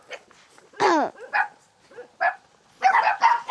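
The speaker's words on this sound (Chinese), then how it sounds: "好多狗啊，这户人家养的狗" Puppies and dogs yip and bark in scattered bursts nearby in a mountain village, one high whining yelp standing out before a cluster of overlapping barks.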